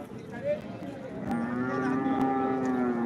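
Bull at Modnimb livestock market gives a long, loud, rising moo that swells and holds over a steady background of crowd noise.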